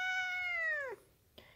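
A single drawn-out cat meow, close and clear, falling in pitch at the end, followed by a brief soft noise.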